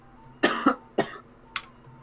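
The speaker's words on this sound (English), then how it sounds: "Guys, it's over for me. I coughed." Three short, sharp coughs close to the mic, the first a quick double burst, then a single cough and a lighter one after a pause.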